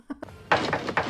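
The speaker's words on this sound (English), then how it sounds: "he's banging on the door" Heavy pounding on a door in a movie action scene: a few soft knocks, then a loud burst of repeated thuds in quick succession, up close.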